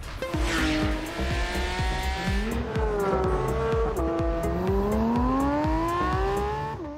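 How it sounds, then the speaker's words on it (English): A Porsche 911 GT3 (992) driving hard, its engine howl rising through the revs, dropping at shifts, then climbing again in a long, loud pull close to the listener. "The car sounds superbly, especially from the inside."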